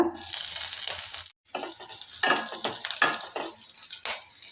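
Cumin, urad dal, crushed garlic and slit green chillies frying in hot oil for snake gourd podimas, a loud steady sizzle with spatula scrapes, briefly cutting out near the start before resuming.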